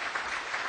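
A church congregation claps together, a short, dense burst of applause.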